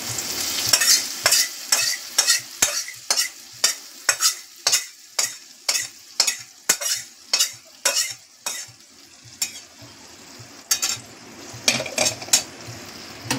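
A spoon stirs payesh, rice pudding with cashews and raisins, in a pot with rhythmic scraping strokes, about two per second, sharp and close, pausing briefly before a few final strokes.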